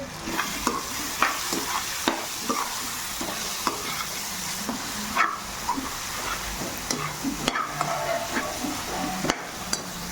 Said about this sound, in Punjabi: ਇਹਨੂੰ ਹੁਣ ਥੋੜੀ ਦੇਰ ਭੁੰਨ ਲਾਂਗੇ